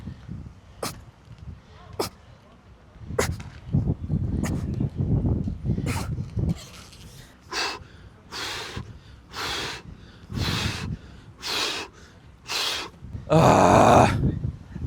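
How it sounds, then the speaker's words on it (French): Heavy breathing from someone doing back lever pull-ups, sharp forceful exhales and snort-like breaths coming in a repeating rhythm, close and fairly loud, growing stronger and more strained toward the end. "On entendait bien ta respiration là."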